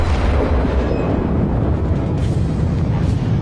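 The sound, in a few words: battleship citadel penetration explosion in World of Warships video game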